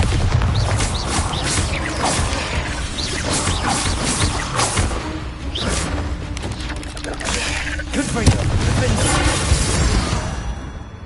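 Bombarda explosion spell cast in Hogwarts Legacy amid a fight, with booming blasts and crashing impacts layered under a player's voice, loud and busy throughout, one sharper burst near the end.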